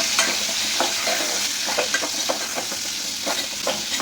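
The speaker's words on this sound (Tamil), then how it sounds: "உப்பு போட்டு நல்லா ஒரு வாட்டி இந்த மாதிரி மிக்ஸ் பண்ணி விட்டுக்கலாம்" Salt is stirred into raw mango pachadi cooking on a low flame, with a constant hiss and a rapid series of close stirring scrapes and taps against the pan.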